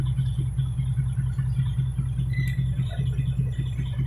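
A heavy Kenworth or International wrecker truck's diesel engine idling after long running, a close, steady low throbbing rumble with an even pulse and no voices.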